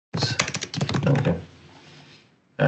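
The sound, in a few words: typing on a computer keyboard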